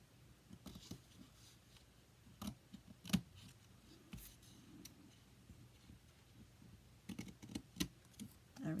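Scissors snip through purse material in a quiet room, a few sharp isolated cuts with soft handling clicks and rustles between them, close and fairly faint.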